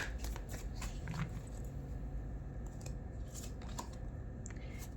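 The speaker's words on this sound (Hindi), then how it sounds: "This is my last shuffle." Tarot cards are shuffled by hand close up, giving a continuous papery riffling and slapping with a few sharper snaps, and no voices.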